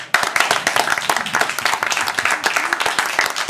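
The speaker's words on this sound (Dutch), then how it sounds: "Dankjewel, applaus ook voor Abraham." Applause at a Piratenpartij Friesland evening event, a small audience clapping briskly and continuously at close range, dense irregular claps throughout.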